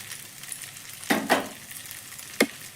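A potato, carrot and egg bhujia mixture is stirred in a pan, with two quick scrapes close together and a third a moment later over faint frying.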